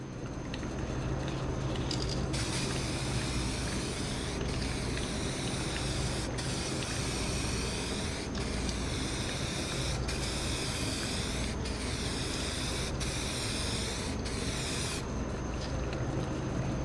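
A spray gun lays a heavy final coat of clear onto a restored car headlight, a continuous hiss broken by brief pauses between passes, steady and close throughout.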